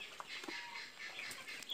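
Free-range caipirão chickens, a flock of hens and young roosters, cluck softly and intermittently at a distance. The calls are faint and scattered, with a light rustle of wings.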